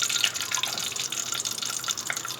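Chopped garlic hitting hot oil in a frying pan while cooking turnip sabzi, a close, steady crackling sizzle that holds for the whole moment.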